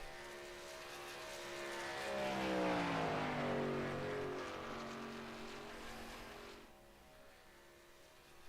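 A race car in qualifying at Talladega approaches and roars past, its engine note rising loud and then dropping in pitch as it fades off into the distance.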